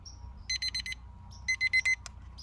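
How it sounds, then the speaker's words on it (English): A kitchen timer alarm sounds during tool disinfection: two separate bursts of rapid, shrill electronic beeps ring out close by over a low background hum. "Start my timer."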